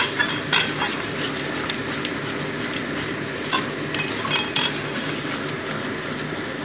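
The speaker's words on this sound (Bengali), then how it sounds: "মোটামুটি এটাকে 2 মিনিট ভালো করে কষিয়ে নিই" Potato masala for chicken curry, with a pinch of sugar added, fries in a pan under repeated clinks and scrapes of a metal spatula over a steady, close sizzle, with no voices.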